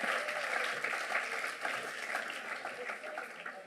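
A church congregation bursts into sustained applause, a dense wash of many hands clapping at once that holds steady and slowly tapers, with voices mixed in the crowd.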